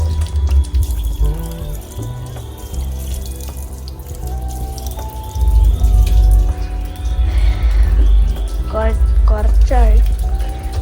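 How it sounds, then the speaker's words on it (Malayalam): Water runs and splashes steadily and fairly loud as a new car is slowly washed, with tonal sounds and voices mixed in over the continuous flow. "ഇനി നമുക്കിതിനെ കഴുകാം. സ്ലോലി കഴുകണം."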